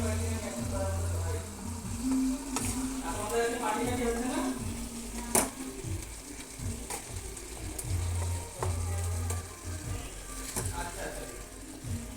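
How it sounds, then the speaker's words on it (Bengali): Tomatoes fry in a pan with salt and turmeric for a prawn curry, a soft sizzle broken by repeated scraping strokes of a spatula as they are stirred, with a voice at moments. "মোটামুটি নাড়া হয়ে গেছে, টমেটো দিয়ে দিয়েছি"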